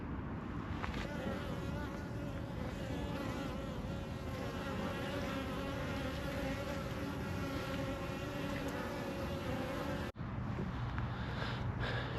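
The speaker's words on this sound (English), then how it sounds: "it's good to see so many bees flying about" Many honey bees fly about outdoors on a mild day on cleansing flights, a dense, continuous buzzing hum that stays fairly steady with overlapping wingbeat tones.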